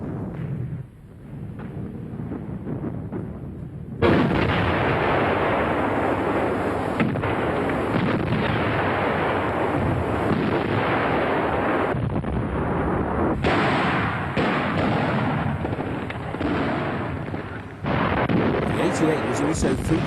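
A German 88 mm gun of the Second World War firing in the artillery role, heavy booming blasts and rumbling reports, loud and sustained with a narrator speaking over the barrage.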